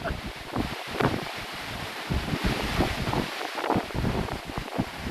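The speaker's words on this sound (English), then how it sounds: "A lot of wind." Strong wind roars steadily and loudly outdoors, gusting and rushing through trees with a dense rustling hiss, and it stays close and continuous throughout.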